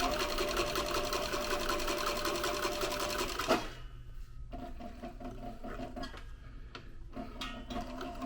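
A sewing machine stitches a leather can coozie, running loud and steady with a fast whirring rhythm, then briefly pausing and restarting with shorter bursts, close up and without talk.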